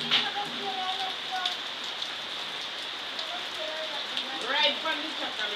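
Rain falls steadily outside an old abandoned house in the hills, a constant pattering hiss with drips and splashes on surfaces nearby, fairly loud and continuous.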